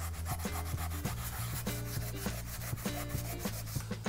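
A scrubby sponge rubs hard across an enameled cast iron skillet in quick, repeated back-and-forth strokes, close and steady with no talking.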